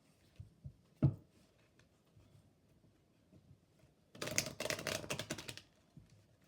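A deck of cards is riffle-shuffled once in a quick fluttering burst of crisp clicks, close up, after a few quiet taps and handling sounds.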